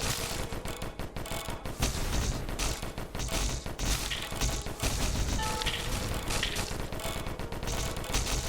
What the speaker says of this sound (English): And we're just shooting faster and faster.